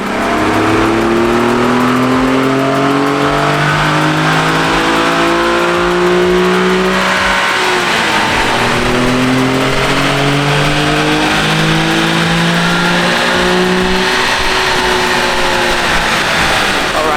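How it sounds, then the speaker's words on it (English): Nissan 350Z HR engine revving hard on a dyno during a tune-up test pull, loud and close, with rising and falling harmonic sweeps as it climbs through the revs repeatedly with no talk. "We've done, I think it was 3 or 4 pulls on the dyno."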